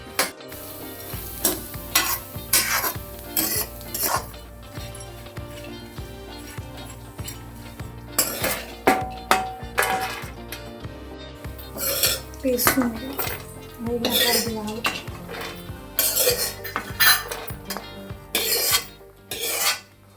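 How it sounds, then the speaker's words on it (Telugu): Cashews being roasted to golden colour in a pan for dry fruit laddus, with repeated metallic scraping and rattling of a spoon against the pan in bursts, close and fairly loud. "నెక్స్ట్ జీడిపప్పు గోల్డ్ కలర్ వచ్చేదాకా వేయించుకోవాలి మంచిగా."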